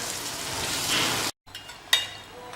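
Marinated mutton for Mewari laal maas fries with onions in a pot, giving a steady, close sizzle that cuts out briefly, then resumes with a clatter of utensils.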